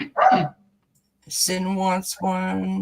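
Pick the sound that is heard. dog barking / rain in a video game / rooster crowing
dog barking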